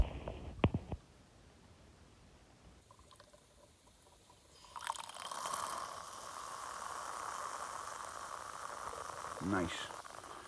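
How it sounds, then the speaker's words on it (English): Coffee percolator heating on an alcohol camping stove beside a lake, a quiet start giving way to a steady soft bubbling hiss, with a voice speaking briefly over it. "Works really well, this percolator on my alcohol stove."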